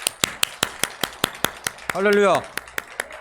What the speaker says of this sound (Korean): 하나님께 영광의 박수를 크게 올려드리겠습니다.